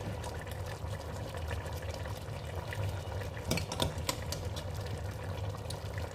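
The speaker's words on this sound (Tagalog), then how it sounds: "magpakulo tayo ng tubig" Water being poured into a cooking pot to bring it to a boil, a steady continuous pouring rush with a few brief splashy bursts partway through, moderately close.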